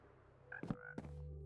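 A Minecraft frog croaks in a short burst of two or three faint, low, throaty calls against a quiet game background.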